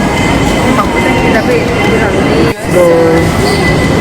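A loud airport shuttle train running toward immigration, with steady wheel rumble and a high squealing whine, and a short dip before the noise swells again. Voices are mixed into the din.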